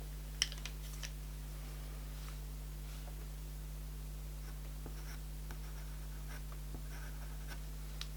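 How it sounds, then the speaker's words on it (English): Faint, soft scratchy strokes of a soft pastel adding highlights to a kitten drawing on paper, intermittent light taps and scrapes over a steady low electrical hum. "I'm going to try and aim a little piece of my soft pastel in there rather than the pencils"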